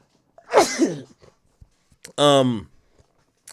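A sharp sneeze bursts out close by, followed moments later by a second loud, drawn-out sneeze.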